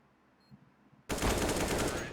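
A burst of rapid AK rifle fire in Counter-Strike on the Nuke map, sudden and loud, running continuously after a quieter stretch.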